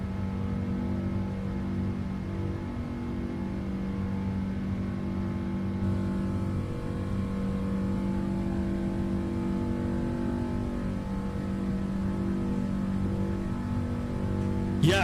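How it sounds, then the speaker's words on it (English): Boeing 777 jet engines from the PMDG 777 in Microsoft Flight Simulator give off a steady, even drone with low tonal hum throughout. No voices are heard over the engines. "The engines do sound nice."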